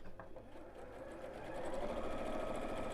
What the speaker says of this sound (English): we'll sew the sides all together first of all to make a tube